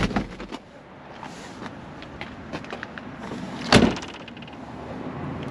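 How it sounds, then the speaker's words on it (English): A 1975 Chevrolet Corvette's car door opens and shuts with a few soft clicks and latches, then one sharp, solid slam near the middle; quiet background otherwise. "the doors open and close just like they should"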